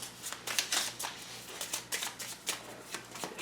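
A deck of cards for the Middara board game is shuffled by hand, a quick series of soft riffling bursts repeating in a steady rhythm, close and fairly quiet.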